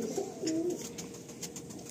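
Pigeons in a loft coo softly nearby, a few low murmuring calls over a quiet background hum.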